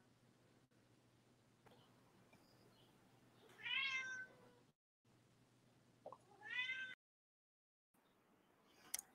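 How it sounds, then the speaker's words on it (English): A cat meows twice, drawn-out crying calls heard a little distant under a quiet indoor hum, with short silent dropouts between. "I hear your cat. That's what I'm hearing."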